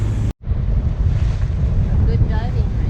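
Strong wind and ocean surf roar steadily around a sailboat off Puerto Rico in the early morning, with a brief drop to silence near the start and some faint higher tones later.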